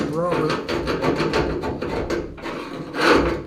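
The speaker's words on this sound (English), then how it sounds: "Best thing is just a flat bladed screwdriver. Just go in there and scrape the stuff out." Repeated rasping scrapes as a flat-bladed screwdriver digs old rubber weather strip out of a channel on a 1966 Ford Galaxie 500 convertible, a close, rhythmic series of rough strokes.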